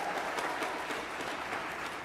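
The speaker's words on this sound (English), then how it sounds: "So give them a round of applause." Audience at a high school spring concert clapping, a brief continuous patter of applause at moderate volume.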